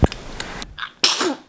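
One close, sharp sneeze indoors at night, with a quick breathy intake followed by a loud burst of air, then quiet.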